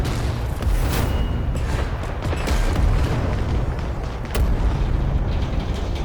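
A loud explosion in the World War II video game Classified: France '44 roars with deep rumbling booms and sharp blasts that continue for several seconds.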